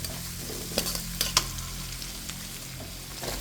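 Onions fry in oil in a pan for a Bengali koi fish curry with kochur loti and amra, giving a steady close sizzle with a few sharp stirring scrapes and clicks.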